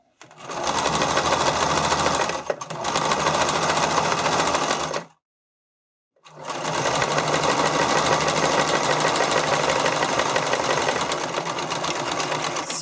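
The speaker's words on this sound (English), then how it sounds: "when you're using a sewing machine instead of a serger" Sewing machine running steadily while stitching elastic swimwear straps, a loud continuous motor whir with needle chatter, broken by a brief hitch and then a two-second pause before stitching resumes.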